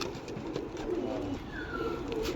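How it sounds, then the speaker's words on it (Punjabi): Soft, low cooing of a Teddy breed female pigeon repeats steadily nearby, with faint background noise and no voices. "ਨਸਲਾਂ ਬਣਾਉਣ ਵਾਲੀ ਕਬੂਤਰੀ ਉਹ"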